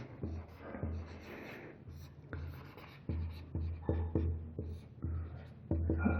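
A pen scratches across paper close to the mic during a geometry lesson, in short repeated strokes with brief pauses between them, and no one speaks over it.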